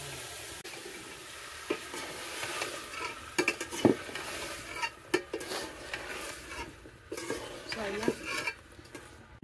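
Oil sizzles in a pot as fish curry is stirred in a village kitchen, with a constant frying hiss broken by sharp scrapes and clinks of a utensil against metal at irregular moments.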